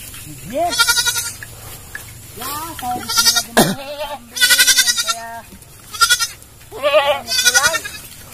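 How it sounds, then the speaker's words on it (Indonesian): Goats being herded on a steep hillside bleat repeatedly in wavering, quivering calls, several loud and close, arriving in irregular bursts with short pauses between them. "Lagi mengembala kambing."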